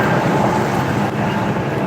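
Steady broadband rushing of road and wind noise through an open truck window, constant and fairly loud, with no voices.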